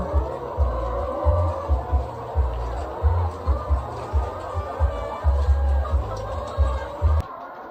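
Many chickens cluck together in a noisy, continuous chorus on an egg farm, with a low rhythmic thumping underneath throughout.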